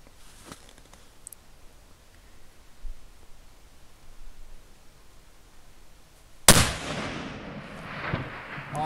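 A single loud long-range rifle shot fired at a 600 m target cracks sharply after a quiet outdoor lull, followed by a fading rumbling echo.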